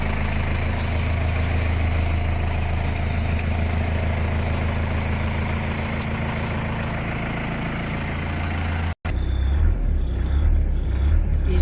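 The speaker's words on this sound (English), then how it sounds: "Very quiet running engine" A 1989 Land Rover Defender Perentie 110 engine idles steadily with a low, smooth rumble, quiet and even throughout with the hood closed, with a brief dropout near the end before the hum returns.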